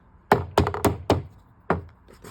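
Molding is banged into an arcade cabinet with five sharp, close knocks, four in quick succession and then a last one after a short pause, each ringing with a hollow wooden thud.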